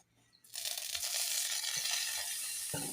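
Food hits hot coconut oil in a pan and bursts into a loud, steady sizzle after a quiet start, continuing close and even to the end.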